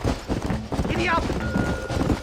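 Horse hooves clip-clop at a quick gait in the Red Dead Redemption video game, a brief rhythmic patter of footfalls under a shouted voice urging the horse on.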